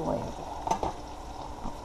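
Salt cod and egg are stirred in a hot frying pan, giving a close, steady sizzle with a few scraping stir strokes near the middle of the short stretch.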